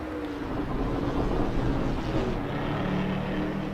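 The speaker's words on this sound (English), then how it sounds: "Listen to the engine of this thing rumble" A race car engine in the Assetto Corsa Evo racing game gives a continuous deep droning rumble that rises and shifts slightly in pitch, loud and steady, heading down the start-finish straight.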